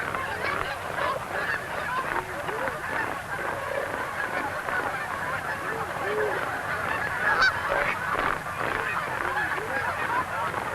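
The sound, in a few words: geese honking, Pacific Northwest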